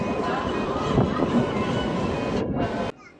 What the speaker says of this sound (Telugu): తోర్నగల్ జంక్షన్కి మన ట్రైన్ చేరుకుంది.